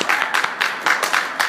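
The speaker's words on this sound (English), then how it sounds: "Everyone clap for Hannah 4." A small group claps for a guest reader named Hannah, a short, close burst of rhythmic hand claps about a second and a half long, with no talking over it.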